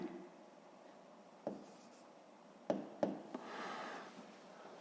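Pen writing on paper while working a math exercise, with a few sharp taps and short scratchy strokes followed by a longer soft scribble, close and quiet with no talking.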